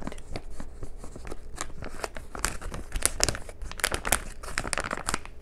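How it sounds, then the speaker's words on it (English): Paper wrapping crinkling near a microwave-heated meal of Buffalo-style cauliflower, a close, busy series of sharp crackles and rustles in uneven bursts, with no talking. "Hear that paper sound."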